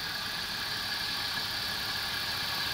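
Steady engine idle, smooth and even with a constant broadband hum and no breaks, heard close up and alone for the whole stretch.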